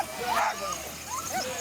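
Sled dogs of a ten-dog racing team at an Idaho sled dog race bark and yip outdoors in a few short, sharp bursts close by.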